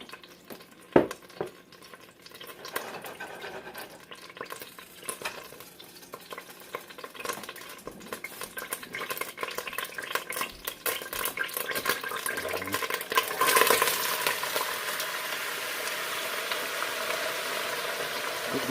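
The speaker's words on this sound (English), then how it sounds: "Getting my grease hot, y'all, so I can do these veggies." Vegetables fry in hot grease in a pot while they are stirred, giving a steady sizzle with scraping and clatter throughout. The frying grows louder and brighter about two-thirds of the way in, and no one speaks.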